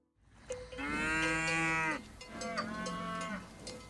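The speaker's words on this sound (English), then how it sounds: "People from Piedmont brought to the lands near Ozieri herds of alpine brown cattle." Alpine brown cattle on a farm near Ozieri in Sardinia give two long, loud moos, the second slightly shorter, with no one speaking.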